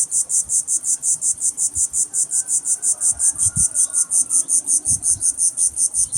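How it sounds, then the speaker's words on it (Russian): A cricket chirps in a fast, steady, high-pitched pulse near the Azov Sea coast, loud and continuous throughout, with faint low background rumbles underneath. "И слышите сверчок?"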